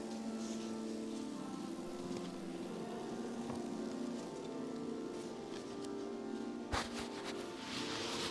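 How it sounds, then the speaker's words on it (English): Rain falls outside Salisbury Cathedral, a steady hiss of drops against surfaces with a low background hum and one brief sharp knock near the end. "there's the sound of rain"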